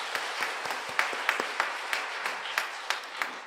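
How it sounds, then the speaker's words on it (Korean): A church congregation at a special revival service claps in praise, a fairly rhythmic round of sharp hand claps under a broad wash of applause at moderate distance, no talking. "우리 하나님께 영광의 박수 올려드립니다."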